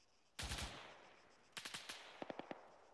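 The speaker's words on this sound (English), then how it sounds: "Machine gun north, northeast." Machine gun fire in ArmA 3 comes in three separate bursts, a long rattling volley, then a shorter run and a crisp string of single shots, fairly distant and without talk.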